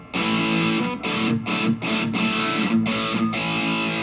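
Distorted electric guitar through a Biyang Metal End distortion pedal with cabinet simulation plays chugging, palm-muted chords in a steady rhythm, with a boxy amp-cabinet tone and short gaps between hits.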